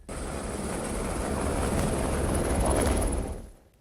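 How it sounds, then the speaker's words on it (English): A steady aircraft roar with a whining high tone, holding constant for about three seconds before fading quickly away. "you can take a helicopter up here,"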